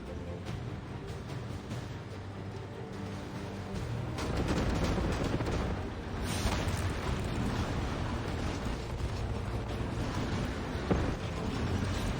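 Rocket launchers firing in the Warpath strategy game, a dense continuous barrage of booms and blasts that swells louder around midway and stays heavy to the end, with no talking.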